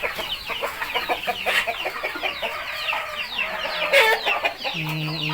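Chickens cluck busily throughout, with sharp squawks and overlapping calls from a flock close by, and a brief low hum near the end.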